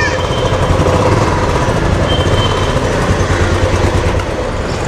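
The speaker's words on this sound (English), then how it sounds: "And now when we turn on the bike" A Royal Enfield Classic 350 BS6 motorcycle engine runs loud and steady at close range, a continuous dense rumble holding for the whole stretch without any pause.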